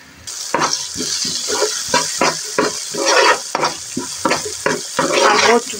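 Curry leaves and ginger-garlic paste frying in a pan for a Telugu amaranth-leaf curry, a steady close sizzle broken by repeated scraping stirs of a spoon against the pan, with no voices.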